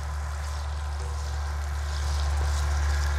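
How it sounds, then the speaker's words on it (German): Bacon sizzles steadily in hot oil in a frying pan, a continuous close hiss and crackle that swells slightly toward the end, with a low background hum beneath it. "Als erstes geben wir halt den Speck in die Pfanne."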